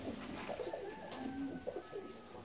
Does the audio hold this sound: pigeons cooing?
yes